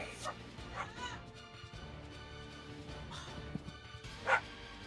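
Chewy the dog barks and yips repeatedly at close range, with whimpering pitches between the sharper barks.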